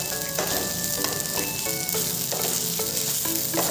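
Onions sizzle steadily as they brown in a hot pan, a continuous close crackle with repeated stirring scrapes breaking through at regular intervals.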